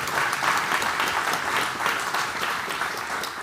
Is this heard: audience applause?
yes